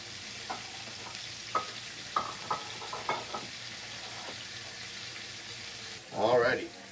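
Potatoes fry in oil in a pan on the stovetop with a continuous close sizzle. Light spatula knocks punctuate it, and a louder scraping stir swells near the end.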